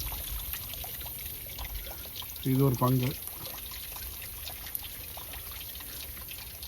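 Water falling from a motor-fed pipe on a farm, a steady pouring trickle running throughout under someone talking, with a brief louder tonal burst in the middle.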